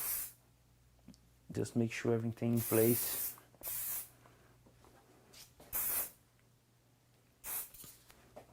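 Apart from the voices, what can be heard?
spraying hair spray onto hair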